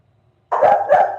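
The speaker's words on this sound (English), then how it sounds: "My dog's barking at something." A dog barks twice in quick succession, close and fairly loud, breaking a silence, with no talking over it.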